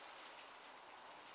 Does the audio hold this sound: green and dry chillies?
no